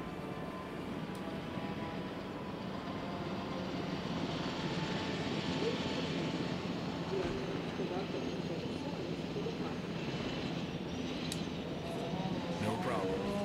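An ACU helicopter in the Jurassic World Evolution video game gives a steady, loud rotor and engine drone for the whole stretch, with voices talking over it.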